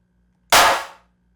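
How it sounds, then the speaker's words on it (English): A single synthesized clap from a Serum 2 generator, a sharp, bright, noisy burst with a quick fading tail, alone and punchy. "you can tune the clap to suit the way that your track sounds later on"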